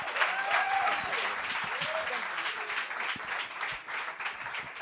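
Workshop audience clapping in a hall, a sustained round of applause at moderate level with a few whoops and cheers rising above the clapping and faint voices underneath.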